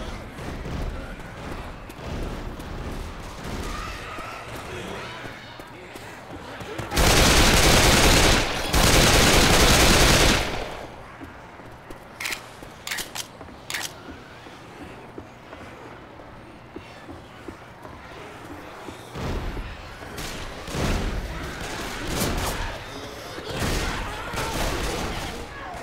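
Machine gun fire in the Left 4 Dead 2 video game, The Passing campaign: a loud, dense burst of rapid shots lasting a few seconds in the middle, with scattered shots and game sounds around it.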